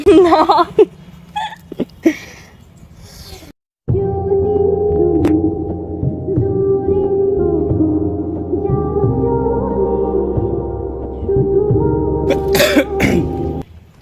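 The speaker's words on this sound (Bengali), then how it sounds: "কাশি হচ্ছে" A person coughs several times in short, close, rough bursts at the start, then a steady droning tone takes over for the rest of the clip.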